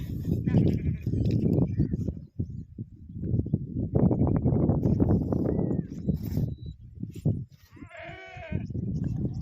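Lambs bleat in a pen, a wavering cry standing out near the end, with people talking and shuffling movement throughout.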